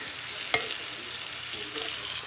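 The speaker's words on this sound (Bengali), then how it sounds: "এই আলুগুলো ভাজা হয়ে গেছে" Potatoes sizzling in oil in a pan, a close, crackling hiss with a sharp stirring scrape partway through and a few more scrapes toward the end.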